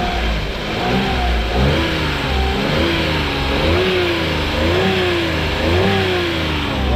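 Car engine after coolant bleeding, from a Toyota Wigo or Kia Sportage, revving up and down in repeated swells with a steady running rumble and no knocking, close and loud without talk.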